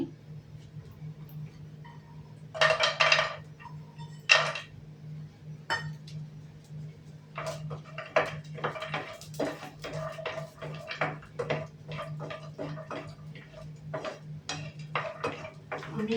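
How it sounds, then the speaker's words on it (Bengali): Cashews and raisins fried in ghee in a pan for a sweet kanika rice prasad, stirred with a spoon that gives frequent clinks and scrapes against the metal and a low sizzle underneath. "ঘি দিয়ে এটা নাড়ছি"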